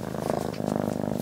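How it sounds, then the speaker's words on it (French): A cat purrs up close in a steady, rhythmic rumble that continues unbroken and alone for just over a second. "Il ronronne."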